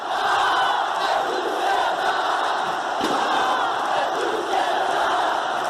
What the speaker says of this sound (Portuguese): saiu de campo ovacionado pelos jogadores e pela torcida flamenguista